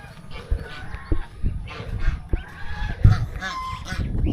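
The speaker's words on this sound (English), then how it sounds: "Birds." Geese honking near an India–Bangladesh border checkpoint in Sonamura, Tripura, a series of loud, close, irregular honks and squawks over faint outdoor rumble.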